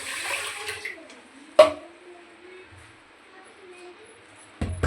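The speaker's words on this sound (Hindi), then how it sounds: "अब मैं चावल धो ले रही हूँ।" Rice being rinsed by hand in water in a home kitchen, with soft, faint sloshing and trickling, one sharp clunk partway through and another knock at the end.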